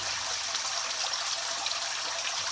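Water trickling and splashing from many small holes drilled in an aquaponics fish tank return pipe, a steady close hiss of falling droplets with no talking.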